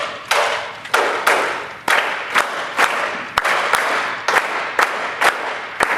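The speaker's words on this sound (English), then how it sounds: "Can we clap that basic Madeira pattern?" An audience claps the basic madera pattern of Uruguayan candombe drumming at a percussion clinic, sharp group claps repeating in a steady, syncopated cycle, moderately loud in a large room.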